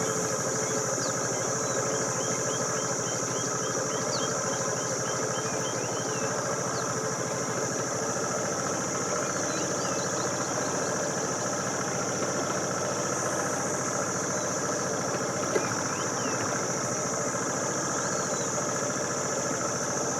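A motorcycle engine idles steadily nearby on a downhill slope, a continuous even rumble with faint rattling vibration and no voices.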